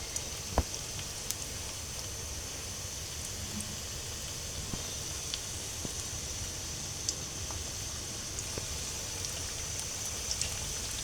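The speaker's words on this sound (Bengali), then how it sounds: "এভাবে আমি সবগুলো ভেজে নেব" Spicy egg pitha frying in hot oil, a steady soft crackle and hiss with scattered small pops, fairly quiet and continuous throughout with no talking.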